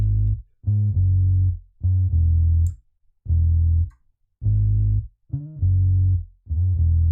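Afrobeats bass line programmed in FL Studio, following the chords with a few added notes: deep, punchy bass notes in a repeating phrase of short and held tones separated by brief gaps, loud and alone.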